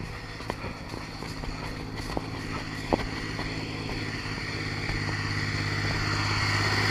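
A steady tractor engine drones and rumbles throughout, slowly growing louder as if drawing nearer, with a few sharp clanks and knocks on top, at a winter race event.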